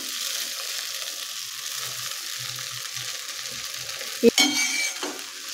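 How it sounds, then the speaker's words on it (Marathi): Soaked poha being stirred in a pan with turmeric, giving a soft continuous scraping and light sizzle, with a short louder clatter near the end. "पोहे अगदी मऊ भिजलेले आहेत। छान असं हलवून घ्यायचं आहे।"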